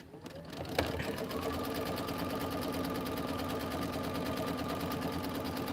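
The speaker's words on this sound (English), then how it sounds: "I'm going to kind of lay my hand across this as it stitches down." A sewing machine stitches down the inner and outer borders of an autumn quilt with a steady, continuous close whir that runs almost the whole clip after a brief start.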